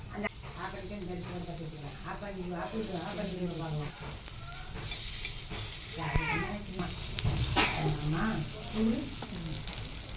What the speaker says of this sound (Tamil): இப்போ பாருங்கள் பணியாரம் வெந்துருச்சு நம்ம இன்னொரு பக்கம் திருப்பி போட்டுக்கலாம்